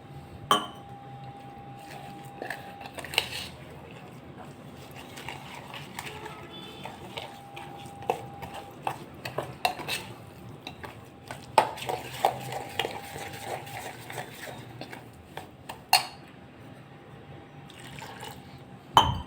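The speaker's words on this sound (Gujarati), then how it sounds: "હવે એની અંદર થોડુંક પાણી નાખશું" Quiet kitchen sounds: water splashes and trickles into a bowl of semolina and sago batter while a spoon stirs and clinks against the sides, with scattered taps throughout.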